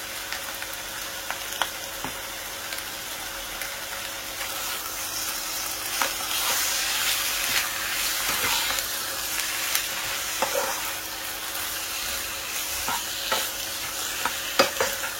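Spinach, eggplant and okra being stirred in a frying pot, a steady close sizzle with repeated scraping strokes of the spoon through the vegetables, no talking.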